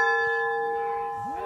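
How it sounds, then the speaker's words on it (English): A hand bell at a shrine is struck once by hand against its side, giving a clear, sustained metallic ring that slowly decays, with a faint voice coming in near the end. "Oh, you started the bell?"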